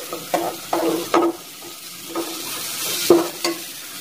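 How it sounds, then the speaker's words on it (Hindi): Potatoes for aloo matar pulao being fried and stirred in a handi, a constant sizzle broken by repeated scraping strokes of a spoon at irregular intervals, close and clear with no talk. "हम आलू को अच्छी तरह भूनेंगे"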